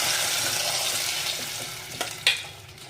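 Andhra-style gongura curry with curry leaves is stirred in a hot pan: a steady close sizzle with a couple of sharper scraping stirs near the end, no talking.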